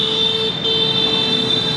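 A car horn beeps on a busy Saigon street, a steady high tone held throughout with a short break midway, over constant nearby traffic noise.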